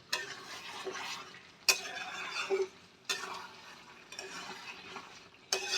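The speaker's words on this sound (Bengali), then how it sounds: "মশলাটা দিয়ে আমি ভালো করে মিক্স করে নেব" A spoon stirs spice masala into chicken in a pan on a gas flame, with a soft sizzle underneath and sharp metallic scrapes and knocks against the pan at irregular intervals, close and clear with no talking.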